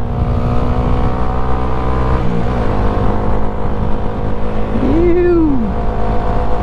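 Honda Grom motorcycle held at full throttle in fourth gear at about 55 mph, a loud steady engine drone with wind rush throughout, a brief dip near the middle, and a short spoken exclamation near the end.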